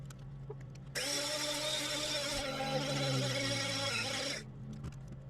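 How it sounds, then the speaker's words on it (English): A grinder pulverizes RAM IC chips into fine powder, running steadily at close range for about three and a half seconds before stopping, with its whine carrying through to the end. "continue to grind the rest of the chips and put them all in there as well"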